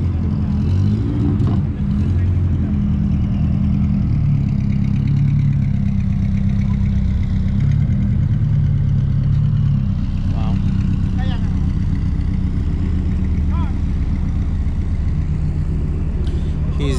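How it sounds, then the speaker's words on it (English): A Honda S2000 idles at a street car meet, its steady low engine rumble continuous and close throughout, with crowd chatter and other car noise mixed around it. "This S2K sounds nasty."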